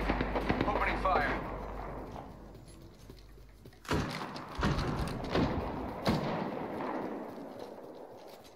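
Gunfire in the Apex Legends video game, several bursts of shots in close succession over a rumbling game soundscape, loud and near, with a voice talking partway through.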